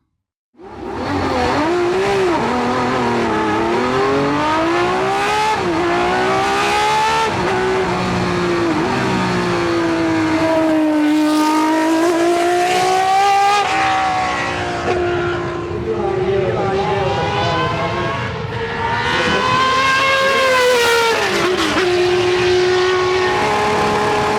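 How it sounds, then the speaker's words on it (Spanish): Matra endurance race car engine rated at 445 horsepower, roaring loud and close for the whole stretch, revs climbing and falling in long sweeping waves with sharp harmonic tones and no pauses. "El sonido de este motor, os aseguro que pone los pelos de punta."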